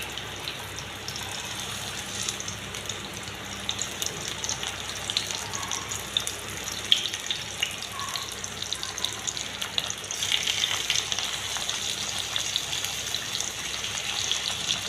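Pieces of ash gourd pumpkin frying in hot mustard oil in a pan, a steady crackling sizzle that stays close and even throughout, with no talk.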